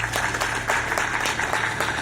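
Audience applause at a real estate meet-and-greet in Peshawar, dense continuous clapping from a crowd, loud and close throughout the short stretch.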